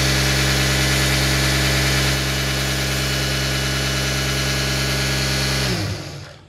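Sewing machine run at high speed for tailoring, a loud steady mechanical whir with a constant hum that holds evenly, then spins down and fades at the end.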